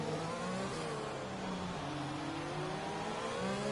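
A Haas Formula 1 car screams at full throttle in the F1 2020 racing game, its high engine whine climbing steadily and continuously, loud and alone with no talk.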